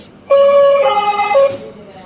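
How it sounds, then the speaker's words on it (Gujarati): A short electronic ambulance siren wails for about a second, loud and close, its pitch stepping between tones. "એમ્બ્યુલન્સ"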